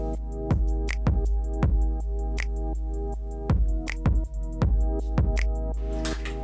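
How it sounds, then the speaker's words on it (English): Herringbone parquet vinyl planks being knocked together with a tapping block to close the seams, giving sharp, close impacts in irregular bursts of two or three hits separated by short pauses, with no talking. "Keep tapping to close the seams with a stroke block."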